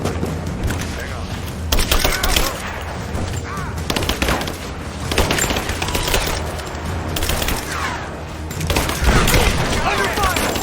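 Gunfire in Rise of the Tomb Raider, dense bursts of rapid shots and heavy booms in repeated waves, loud and close, mixed with shouted voices.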